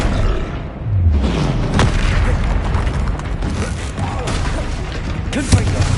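Incendiary fire spell bursting in Hogwarts Legacy during a troll fight, a loud booming blast amid dense, continuous combat noise with rumbling impacts and a sharp pop near the end.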